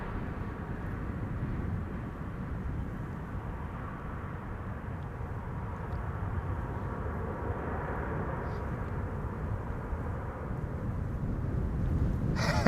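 A KLM Sky Team Boeing 737-900 airliner arriving from Oslo on approach to Amsterdam Schiphol Airport, a steady low jet roar held for the whole stretch, slowly building toward the end.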